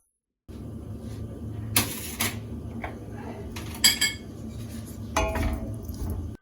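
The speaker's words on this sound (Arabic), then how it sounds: "غادي نحاولوا اننا نحركوهم مزيان في الطنجره" Grated onion and slices of meat are stirred in a cooking pot, with a low sizzling bed broken by sharp metallic scrapes and clinks of a utensil against the pot at irregular moments.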